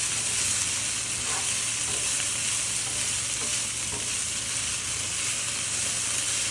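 Gobi 65 cauliflower pieces are stirred and mixed in a hot pan with the heat off, giving a steady broadband frying sizzle with scraping stirs, close and loud with no talking.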